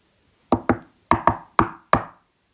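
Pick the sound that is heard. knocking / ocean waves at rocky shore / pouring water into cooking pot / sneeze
knocking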